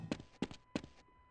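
Three heavy footsteps thud at an even pace in Half-Life: Decay, each a short dull impact with a brief tail, followed by quiet room tone.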